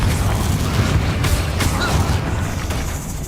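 Deep booming explosion of the Confringo fire spell in Hogwarts Legacy, a low rumbling blast with crackling debris during a fight.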